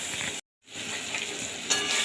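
Aubergine and onion sizzle steadily in a pan, a close crackling hiss that cuts out briefly near the start and then resumes slightly louder.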